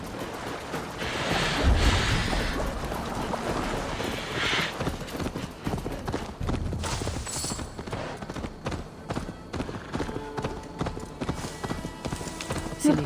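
Horse hooves clip-clop steadily in Assassin's Creed Valhalla as a mount travels, a rhythmic, moderately loud trot with scattered game effects around it and occasional talk.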